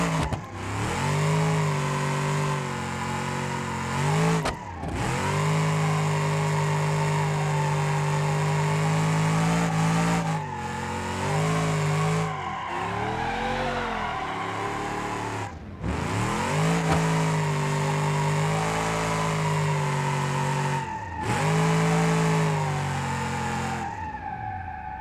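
An 1100-horsepower automatic car in BeamNG.drive roars at sustained high revs while drifting, the engine note rising and dipping with brief lift-offs every few seconds, loud and continuous, with no speech.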